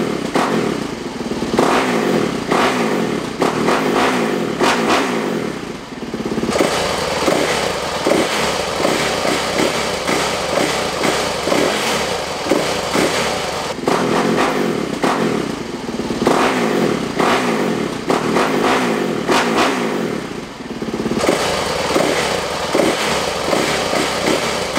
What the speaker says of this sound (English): you can just feel how now the bike really wants to rev